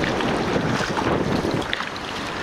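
Ocean wave rushing in over the beach at Crescent City, California, a close, steady wash of foamy water with wind buffeting the microphone, easing slightly toward the end.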